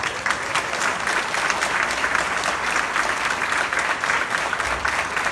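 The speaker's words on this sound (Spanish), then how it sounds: "Brindémoslos un afectuoso aplauso." Sustained applause from a crowd at a university graduation ceremony, steady and dense clapping for several seconds without pause.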